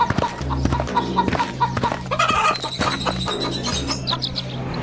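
Chickens cluck repeatedly in short, close, busy bursts, with a few higher bird calls mixed in and steady background noise underneath.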